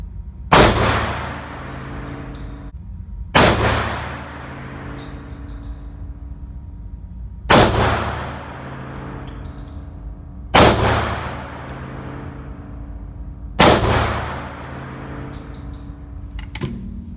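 A Tokarev pistol fires PPU rounds at a shooting range: five sharp, loud single shots spaced a few seconds apart, each with a ringing decay and quiet gaps between.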